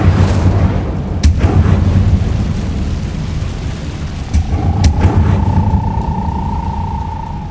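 Incendio fire spell cast in the Hogwarts Legacy video game, a loud rumbling burst of fiery blasts with sharp cracks and a rising tonal whine near the end, no talk.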